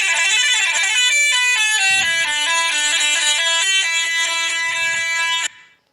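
A custom bus horn in a bus video game blares continuously for about five seconds, a loud, sustained multi-tone honk with stepped pitch shifts, then cuts off abruptly into silence.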